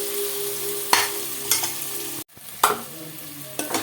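Tomatoes and masala cook in a pan and are stirred in a few distinct strokes, each a sharp scrape rising out of a quiet, steady sizzle. Close by, with no talking.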